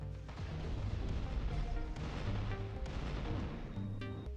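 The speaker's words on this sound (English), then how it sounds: "Oh, my favorite cannons are here again." Cannons firing in a space-themed video game on a lunar mission, heavy booming blasts rolling over one another in a dense, continuous barrage with no talking.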